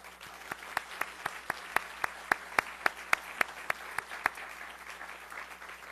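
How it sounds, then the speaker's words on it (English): Applause at a summit comes through as sparse, evenly spaced claps, crisp and fairly quiet, repeating at a steady rhythm for several seconds before trailing off. "Please join me in giving a warm round of applause to all these folks."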